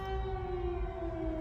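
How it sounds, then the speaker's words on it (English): An emergency siren sounds outside in New York, a loud sustained wailing tone that holds steady and slowly bends in pitch, with no other sounds around it. "Loud sirens outside in New York."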